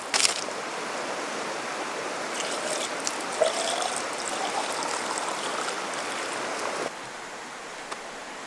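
Water is poured into a waterproof dry bag, making a steady splashing trickle with short gurgles over several seconds, fairly close and loud, then easing slightly toward the end.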